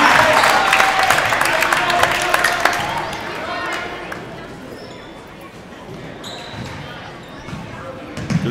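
Crowd at a WIAA boys playoff basketball game, Belmont at Benton, erupts in loud cheering after a made three-pointer, then slowly fades into the murmur of a busy gym while a commentator talks over it.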